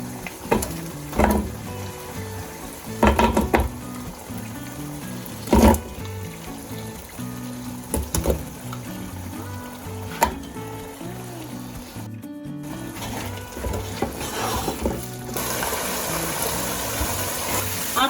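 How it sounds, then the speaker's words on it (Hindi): Aloo keema frying in oil in a pan, the potatoes just added to the minced meat: a steady sizzle runs throughout, broken by louder clatters of stirring, with no talking. "यहाँ इस स्टेज में आलू डाल के हम इसे 2 से 3 मिनट अच्छे से भूनेंगे"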